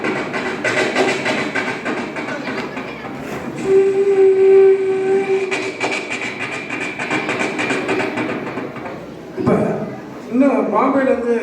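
A performer's voice imitates an express train running from Bombay to Madras, with a sustained horn-like tone and rhythmic rolling clatter, loud and close, ending in a burst of noisy rushing.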